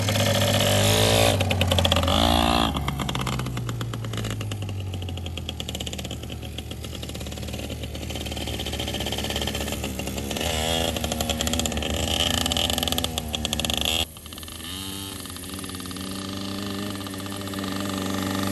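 A Yamaha PW80 dirt bike ridden by a child, its small engine buzzing and revving unevenly in first gear, loud and close, with a brief drop in sound near the end and occasional talk nearby.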